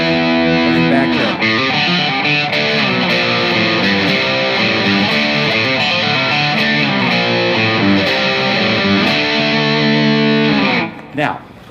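Heavily distorted electric guitar plays a song, a loud sustained run of riffs and chords with dense overdriven tone, ending with a brief pause.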